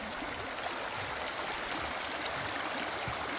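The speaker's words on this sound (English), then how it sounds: "Listen to the running water." Continuous rushing water of a desert oasis stream at Einot Tzukim by the Dead Sea, a dense broadband wash that stays steady and fairly loud throughout with no voices.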